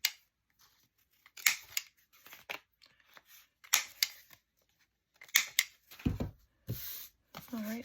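Scissors trim a paper journal card made from a stamped master board background, producing several short, crisp snipping and cutting bursts with quiet pauses between them, close to the microphone.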